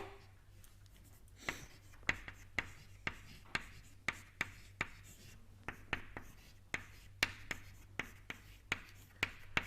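Chalk or marker taps and scratches at irregular intervals as equations are written on a board in an engineering lecture, quiet and close over a steady low hum.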